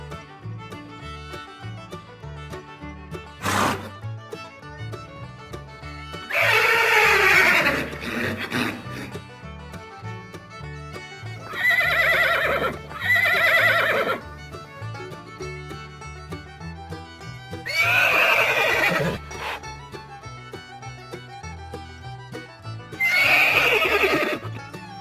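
Horses neigh in four loud, drawn-out whinnies, each falling in pitch, spaced several seconds apart, with quieter shuffling and a sharp knock between calls; no voices.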